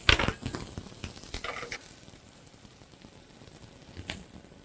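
Butter and thyme sizzle in a frying pan ready for fish, a steady crackling fry with spitting bursts that are busiest at the start and then settle into a quieter hiss.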